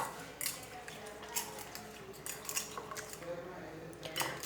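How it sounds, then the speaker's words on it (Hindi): Eggs whisked with turmeric and spices in a bowl, a run of quick metallic taps and scrapes of utensil against the dish, fairly close, with faint background noise and no talk. "अंडों को अच्छे तरीके से फेंट लिया है"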